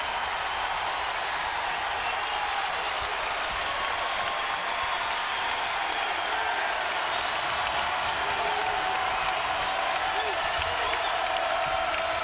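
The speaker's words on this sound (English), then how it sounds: "Providence now has to calm that crowd down" Basketball arena crowd during a college game between Providence and Butler, a dense, continuous roar of cheering and applause that fills the whole stretch at a steady level.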